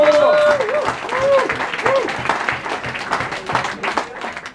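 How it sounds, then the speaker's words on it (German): Audience applause at an ice hockey press conference for EHC Bayreuth against VER Selb, a steady wash of clapping from a room of people greeting the top goal scorer, with a voice talking over it that gradually thins out. "Jetzt aber Applaus für unseren besten Torjäger."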